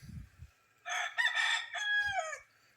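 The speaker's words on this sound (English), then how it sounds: "Ignore the roosters crowing." A single rooster crows loudly and clearly, one long drawn-out call after a brief low rumble at the start.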